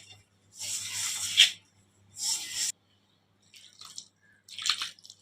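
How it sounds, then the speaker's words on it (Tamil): Chapati dough being kneaded by hand for a Tamil recipe, four bursts of soft, wet pressing and rubbing close by, separated by brief pauses, with no talk. "இது வந்து சப்பாத்தி மாவு மாதிரி பிசைஞ்சு எடுத்துக்கலாம்."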